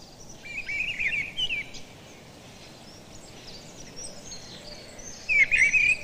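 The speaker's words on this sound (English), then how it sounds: "The song may be heard as early as February and consists of short, flute-like phrases, more like a blackbird's than the song thrush's," Mistle thrush singing short, strident, flute-like phrases, a brief burst at the start and another at the end, fairly faint against a steady outdoor background.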